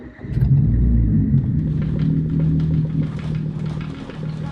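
Renault Clio 3 RS 197 engine running on a cold start, a loud steady low rumble close by with a slight rise and settle in pitch, no talk.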